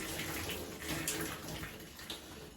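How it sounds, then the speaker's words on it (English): Water being squeezed out of long, freshly washed locs in a shower, giving a steady, soft wash of splashing and trickling water at low volume with no talking. "Squeezing this water out."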